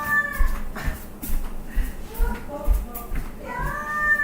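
A cat meows repeatedly, several drawn-out, plaintive cries close by, with light shuffling sounds between them.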